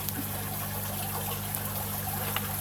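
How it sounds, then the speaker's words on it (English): Water poured out of a bucket holding small crabs, a steady close trickle and splash that runs continuously for a few seconds over a low background hum. "I'll just take that bit of water out,"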